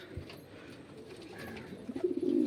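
Young pigeons coo softly and nearby in a bird-keeping setting, a few low murmuring calls building toward the end, with no talk over them.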